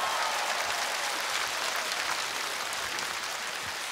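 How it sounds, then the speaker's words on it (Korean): Audience applause at a televised outdoor singing contest in Bucheon, Korea, a steady, fairly faint wash of clapping heard from a distance that carries evenly for a few seconds with no voices over it. "첫 번째 출연자에게 박수"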